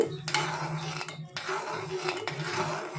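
Spoon scraping and clinking against a pan while kesari sweet is stirred, a run of close metallic scrapes broken by short pauses, with a voice heard in the background.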